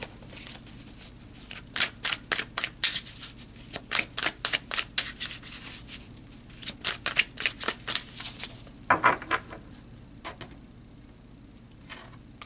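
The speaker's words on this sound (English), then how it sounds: "So let's pull some more cards here." Tarot cards being shuffled and pulled, a quick run of crisp riffling and slapping card sounds in bursts, close and fairly loud, with softer handling rustles trailing off near the end.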